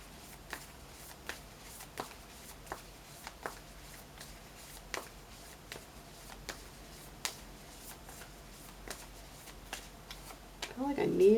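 Tarot cards being shuffled: soft, faint flicks and taps recur at a steady, loose rhythm, then a brief louder rustle comes at the very end.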